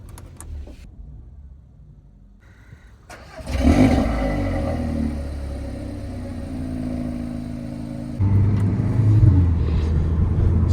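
A modified Audi S3 heard from inside the cabin as it pulls away, the engine rising from a quiet idle into a loud, steady drone, then growing louder again near the end as it accelerates.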